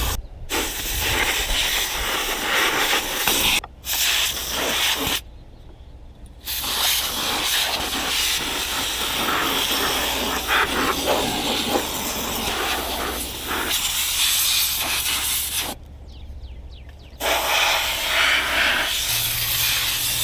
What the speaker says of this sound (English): Now I'm just going to take a little canned air here and just blow things out.